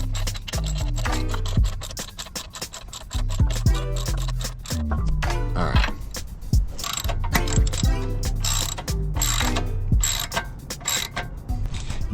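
A ratchet tightening winch plate bolts on a Jeep Wrangler TJ, with bursts of rapid clicking pawl strokes separated by brief pauses and metallic scrapes, loud and close.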